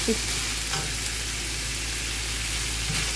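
Bell pepper stir-frying in a hot pan with bamboo shoots over fairly high heat, a steady broadband sizzle throughout with occasional soft scrapes of stirring, close and continuous, no voices.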